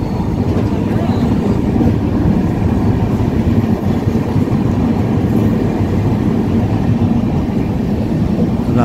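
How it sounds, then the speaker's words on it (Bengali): Train No. 12863, running from Howrah to Katpadi after leaving Rajahmundry station, rolls along the track in a dense, continuous low rumble heard from inside a 3AC coach, steady and loud with no distinct breaks. "আমাদের ট্রেনটা এগিয়ে যাচ্ছে।"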